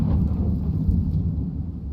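A thunderstorm rumbles in The Stanley Parable: Ultra Deluxe, a loud, continuous low roll of thunder with rain hiss that slowly fades over two seconds.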